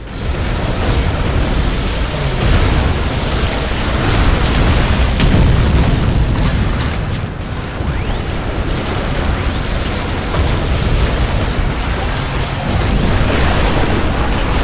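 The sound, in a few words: buildings exploding and being destroyed in The Riftbreaker video game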